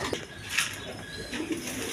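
Pigeons coo at a seller's loft, a couple of soft, low, throaty coos rising close by over a steady background hum, with no one talking.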